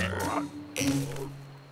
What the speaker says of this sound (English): There's a group of tiny frogs in the trees